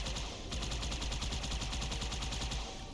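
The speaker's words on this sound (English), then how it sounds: "it's definitely a large vehicle with a turret on top" A turret on top of a large vehicle in Halo fires a rapid, steady stream of shots, loud and close, each burst evenly spaced and running without a break.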